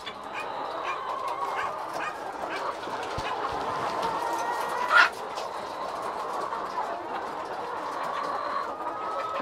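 Laying hens cluck and murmur steadily in the background, with a brief louder squawk partway through.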